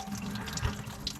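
Water pours and splashes out of a used excavator being repaired, a short burst of trickling, gurgling liquid at close range with a brief heavier slosh midway.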